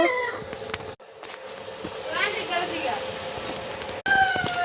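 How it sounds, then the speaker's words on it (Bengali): Desi chickens of one breed in a dark coop cluck and crow, with a rooster's drawn-out crow standing out over scattered clucks and rustling, and a person speaking nearby. "দেশি মুরগিগুলো আপনাদের যেমন তেমনভাবে দেখানোর চেষ্টা করছি"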